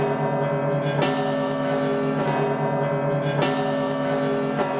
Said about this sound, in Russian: и тут ударили большой колокол